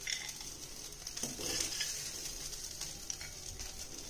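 Cooked poha scooped from a pan onto a serving plate, with a light sizzle and repeated soft scraping and stirring noises, close and fairly quiet, with no talking.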